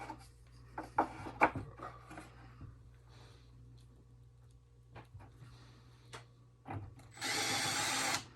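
A power drill drives a single screw into a small wooden filler piece on a cottage kit, a short close whirring burst at the end after quiet knocks and handling of wood.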